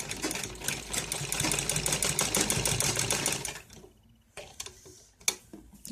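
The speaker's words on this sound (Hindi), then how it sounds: "ऐसे गले को अंदर करते हुए तब सिलाई लगानी है हमें" A sewing machine running fast, stitching the neckline of a net cloth ladies' suit, with a dense rapid rattle for about four seconds, then a pause and a few short bursts of stitching.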